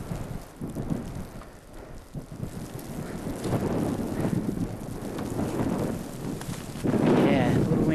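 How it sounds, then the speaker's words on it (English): Wind gusts buffet the microphone on a Mount Saint Helens climb in a steady rumbling rush, swelling louder toward the end, with no other clear sounds over it. "There's a little bit of wind here. You might be able to hear that."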